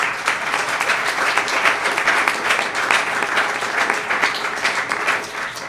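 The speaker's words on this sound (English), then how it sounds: "So let's give her a round of applause." A crowd at an Our Lips Unsealed event applauds for Kathy Valentine of the Go-Go's, a continuous, moderately loud patter of many hands with slight swells, no clear voices on top.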